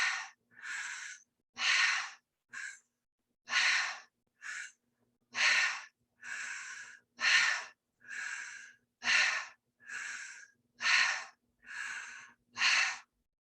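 Deep, rhythmic breathing exercise, with about sixteen strong breaths in steady succession, each a loud, close breathy rush separated by brief pauses, with no talking.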